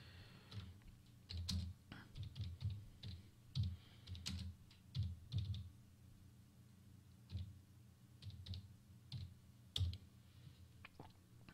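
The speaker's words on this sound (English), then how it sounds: "I'm typing with one hand because I'm holding a recorder." Someone types on a computer keyboard with one hand, producing irregular bursts of close, soft key clicks separated by short pauses, with no talking.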